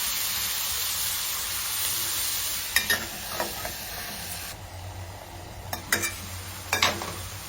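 Onions fry in a home-style pan for egg pulusu with a steady bright hiss, broken by a few spoon-scraping stirs near the middle and again toward the end.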